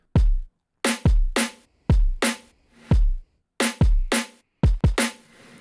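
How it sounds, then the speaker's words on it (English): Punchy kick drums alternate with crisp snare hits in a steady groove, each hit thick from two layered samples, played loud with no other sounds. "So I've got 2 layers of a kick, 2 layers of a snare"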